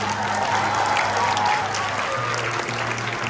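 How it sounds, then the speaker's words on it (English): Students applaud continuously during a school investiture ceremony as a house flag is handed to the Tagore House captain, a steady, moderately loud patter of many hands with a low hum running underneath. "Let's keep the applause running, students."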